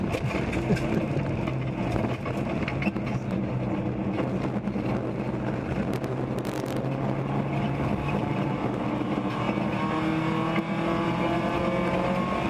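A Mazda Miata race car in a ChampCar endurance race drones steadily and loudly around the track, its engine note holding a constant hum with rough mechanical texture throughout.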